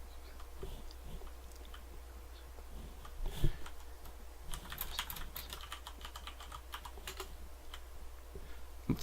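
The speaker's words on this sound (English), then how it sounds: "I'm using a Corsair Gaming Vengeance K95 gaming keyboard" Keys clack rapidly on a Corsair Vengeance K95 gaming keyboard in a steady, soft stream of taps with a faint hum underneath and no voices.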